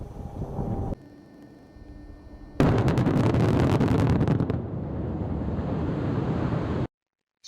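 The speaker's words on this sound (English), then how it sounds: "the next two slides have examples of free face blasting where we can see what such blasting looks like" Free face blasting in an open pit mine, a sudden loud blast followed by several seconds of heavy roaring debris and rumble, preceded by faint wind noise, then abrupt silence.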